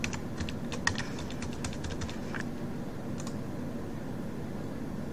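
Login credentials being entered on a computer keyboard for security-company concierge software: a quick burst of light key clicks in the first half, fading to scattered taps over a steady background hiss, no voices.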